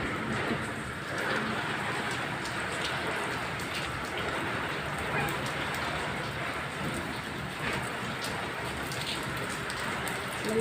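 Heavy rain falling in a steady, dense roar that stays loud and even throughout, with no talk over it.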